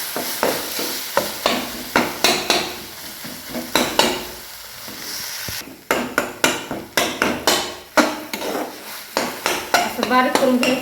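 Eggplant is mashed in a sizzling pan for baingan bharta, making repeated, rhythmic thumping knocks and scrapes up close over a low fry hiss, with a brief voice near the end.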